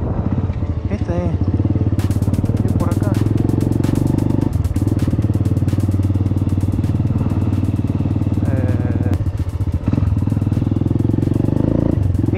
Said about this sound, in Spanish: La moto que hace bardo.